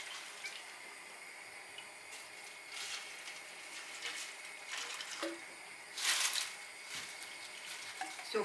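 Water pours into a pot of onion skins and hibiscus flowers, a soft continuous splashing stream with a few brief louder gushes, moderately close, with no voices.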